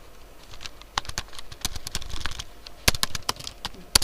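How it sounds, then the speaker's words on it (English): Computer keys clatter in irregular bursts of sharp clicks, close and fairly quiet, during a lesson on installing a package with npm. "now I am typing it here."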